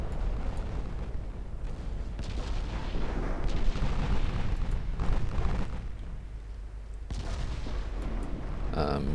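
3-inch naval guns fire in the Ultimate Admiral Dreadnoughts naval game, a steady run of booming reports with rumbling blasts rolling over one another, loud and continuous across the whole stretch.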